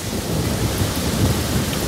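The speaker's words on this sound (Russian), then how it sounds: "Это что, это град мне в рот залетел?" Hail pelts down during a thunderstorm, a dense, even roar of small impacts mixed with rain noise, steady and close for the whole stretch with no voices.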